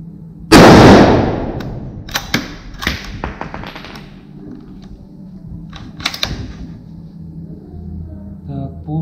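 Single rifle shot fired at a target during a night-sight test, a sharp loud crack followed by clicks, taps and handling noises of the gun and equipment.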